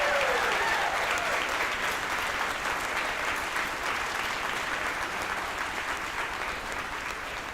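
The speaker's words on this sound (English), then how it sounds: "So folks ringside, give Galen a big round of applause." Ringside crowd at a junior livestock expo giving a big round of applause, a steady dense burst of clapping sustained for several seconds at moderate distance, with faint voices mixed in.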